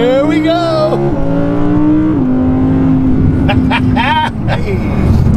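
A supercar passing close by with a loud engine roar that rises and shifts pitch through gear changes, while people talk over it.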